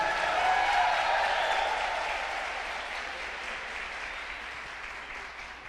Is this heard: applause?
yes